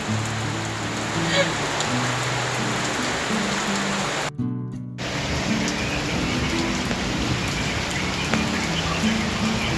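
Rain falls steadily and heavily in a continuous wash of patter, with a brief dropout partway through and faint voices mixed in.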